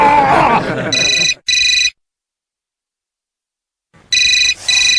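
Phone ringtone ringing in a home, a bright electronic tone sounding in two bursts, then a long silence before it resumes twice more; a voice is heard briefly at the start.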